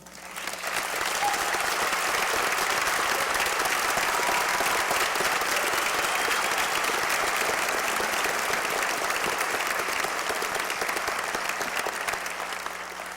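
A large commencement crowd at a health sciences university gives sustained, loud, dense applause for the student speakers, continuous throughout and tapering slightly at the end.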